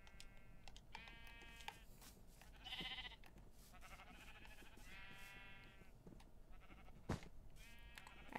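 Sheep in the video game Minecraft bleat several times in short, wavering calls spread across the clip, moderately loud over a faint steady background with occasional clicks.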